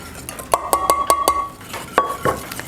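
Flour and almond extract are stirred into dough, giving a quick run of bright metallic clinks of a utensil against a bowl, a brief pause, then a few more taps, close by.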